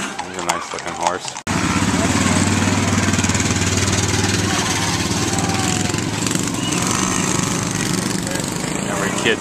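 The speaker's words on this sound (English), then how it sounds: "Every kid's dream, take their motorcycle and put it in the parade." A motorcycle engine in a small-town Heritage Days parade in Cardston roars up loudly and close, then holds a steady, rough drone for several seconds.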